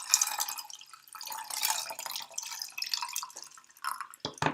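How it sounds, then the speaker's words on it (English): Pomada liquid being poured into a glass, giving a continuous trickling and splashing stream that rises and falls in strength, ending with a few short sloshes and drips, close up with no talk. "I have polished off another glass of pomada, so I'm going to pour myself another one"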